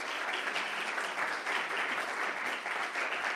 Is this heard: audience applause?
yes